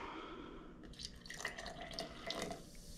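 Water poured from a small package onto baking powder, giving a quiet run of liquid drips and splashes that rises slightly toward the end, with no talk.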